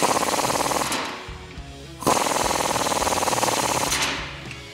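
Impact gun tightening a top frame bolt on a Jeep Wrangler JK with a 21mm socket, two loud rattling bursts broken by a short pause, close and dominant.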